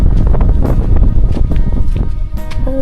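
Dry wind blows across open countryside, loud and gusty, buffeting the microphone with a constant roar and uneven swells.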